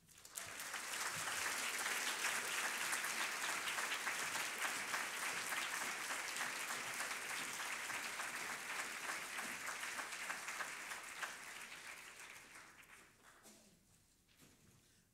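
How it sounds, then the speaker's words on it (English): At a book awards reading, an auditorium audience gives long applause to the nonfiction finalists, a dense roar of many hands that builds, holds steady for several seconds, then tapers off toward the end. "Another round of applause for our nonfiction finalists."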